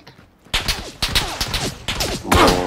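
Rapid gunfire in the video game PUBG cracks out in several sharp bursts, nearby and loud, with short gaps between volleys and the last burst denser and more ringing.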